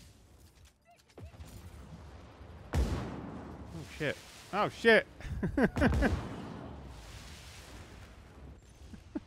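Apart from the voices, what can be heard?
fireworks fired from a jet in video game Just Cause 4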